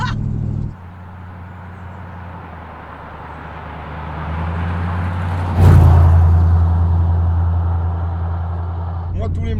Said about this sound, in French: Oh, ce son. Ah bah, Mais qu'est-ce que j'aime le V8 américain.